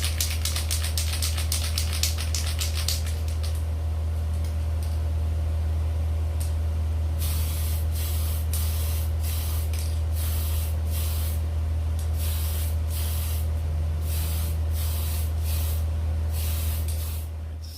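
Hissing bursts from a spray paint rattle can coating a 1977 Dodge van, first a steady stream then a series of separate sprays with short pauses, loud and close over a constant low engine-like hum.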